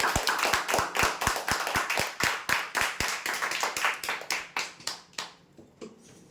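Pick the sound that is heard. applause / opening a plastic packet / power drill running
applause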